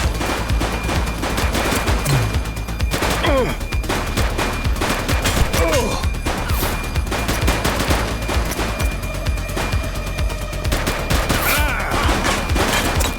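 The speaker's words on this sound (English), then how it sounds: "Shots fired!" Dense, continuous gunfire from the police video game The Precinct, with rapid overlapping shots and crashes sounding close and loud throughout, with no one speaking.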